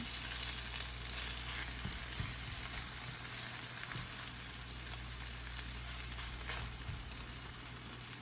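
Corned beef sautéing in a pan, a steady close sizzle and crackle throughout with a few soft stirring knocks, no speech over it.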